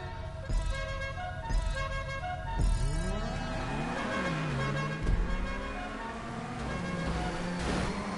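Banshee sports car engine in a GTA game revs and shifts through gears, pitch sweeping up and down as it accelerates, with a few sharp clunks and a brief tone, close and steady.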